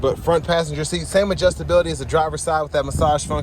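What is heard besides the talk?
No everyday noise stands out behind the speech.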